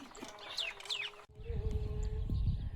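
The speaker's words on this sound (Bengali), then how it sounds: "জোড়া শালিক তো। জোড়াটা বাহ কি সুন্দর করছে।" A pair of mynas give a few quick, chirping calls close by in the first second, then fall quiet under a low, rumbling background.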